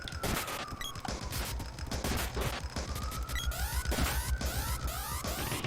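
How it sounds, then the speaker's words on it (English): Rapid sword strikes in the Secret of Mana SNES game: a dense run of sharp, loud impact hits and clanks with rising and falling chirpy effect tones, repeating quickly throughout over game music. "I'm just testing out my cool new sword"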